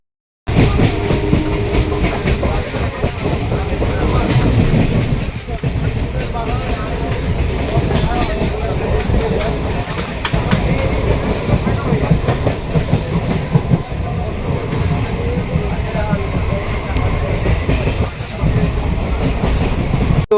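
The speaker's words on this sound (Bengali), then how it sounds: "দমদম ক্যান্টনমেন্ট ট্রেন ঢুকছে" A Habra–Sealdah local train rolls into Dum Dum Cantonment station with a loud, steady rumble and rhythmic wheel clatter, while voices are heard over the noise.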